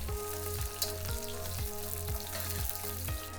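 Beef and carrot stir-frying in a hot pan, a dense continuous sizzle with rhythmic stirring pulses about twice a second, close and fairly loud.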